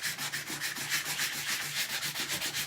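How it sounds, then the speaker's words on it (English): Rhythmic back-and-forth rasping of a 150 grit sanding block rubbed by hand over wooden drawer hardware, steady strokes about four per second, close and clear. "But you just sand it down nice and flat"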